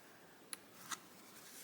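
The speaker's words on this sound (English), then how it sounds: "I'll go back with my scissors." Scissors snip twice through embroidered fabric, two quick, very quiet cuts close by, with near silence around them.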